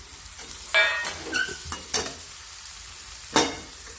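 Mashed roasted eggplant is stirred with onion, chili and garlic in a pan, with soft scraping spatula strokes and clacks over a gentle background sizzle.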